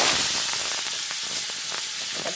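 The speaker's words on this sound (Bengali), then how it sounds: "এবার পেঁয়াজ আর টমেটোটা দিয়ে দিচ্ছি। এই যে পেঁয়াজ টমেটো" Onion and tomato hit hot oil in a pan, bursting into a loud, dense sizzle and steamy hiss that runs without pause, close up.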